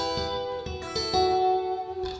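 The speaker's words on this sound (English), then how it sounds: "I've also got a little bit of flanger on there, a bit of reverb as well" Fingerstyle electric guitar riff played without a pick through flanger and reverb, a few plucked sustained notes with a swirling sheen and lingering tail, close and moderately loud, with no voices.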